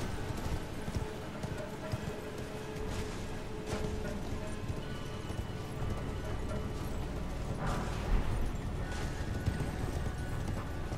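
Horse hooves galloping in Elden Ring, a steady rapid clip-clop running throughout under game ambience, with someone talking over the sound for most of the stretch.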